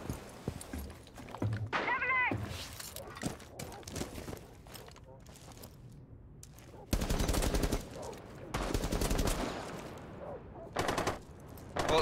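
Video game gunfire aimed at players, heavy automatic bursts in two or three loud clusters separated by quieter gaps, with voices talking across the clip and a horse-like whinny in between.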